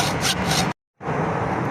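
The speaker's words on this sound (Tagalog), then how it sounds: "Pag walang cable cutter, kaya naman ng lagari, tsagaan lang." A hacksaw rasps back and forth through cable in steady harsh strokes, pausing briefly before the grinding, scraping cut resumes.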